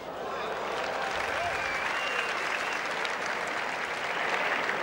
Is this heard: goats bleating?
no